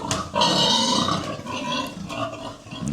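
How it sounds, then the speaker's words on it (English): Pigs on a piggery farm grunt and squeal close by, a dense, continuous chorus of animal calls with no break across the short stretch. "It's some of the pigs."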